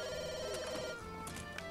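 A telephone rings in The Sims 3, an electronic bell-like trill with a bright tonal pattern that sounds close and clear, then breaks off briefly before another short burst.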